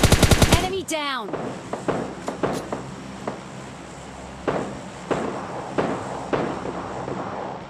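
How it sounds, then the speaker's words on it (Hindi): Gunfire in the video game PUBG Lite: a rapid automatic burst opens the clip, followed by scattered single shots and short bursts at irregular intervals, some near and some farther off, with a little faint talk in the background. "तो भाई आगे से आ रहे होते हैं गन साउंड्स"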